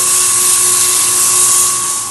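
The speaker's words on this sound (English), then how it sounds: "Grab a little bit of sandpaper here. I got more sanding to do." Sandpaper rubs against a segmented wooden hollow vessel spinning on a lathe faceplate, a loud, steady hiss with a faint whining tone from the machine running underneath, unbroken for about two seconds.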